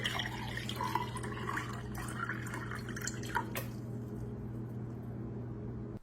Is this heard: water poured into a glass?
yes